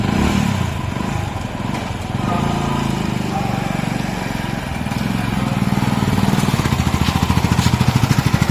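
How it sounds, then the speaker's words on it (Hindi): A motorbike starting and riding off from a hotel during a fair, its engine clattering and revving close by, building to a fast throbbing pulse by the end, with voices mixed in. "इसके बाद में मैंने बाइक की सीट से मिट्टी उड़ाई और इस पर बैठकर फिर इसके हैंडल को घुमाया और मैं बाहर निकल गया।"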